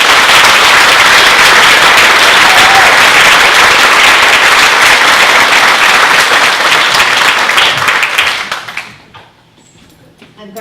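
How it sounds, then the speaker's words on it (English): A crowd gives loud, dense applause for community members about to read the Declaration of Independence, sustained and close for several seconds before fading quickly into near silence at the end. "Let's give them a round of applause."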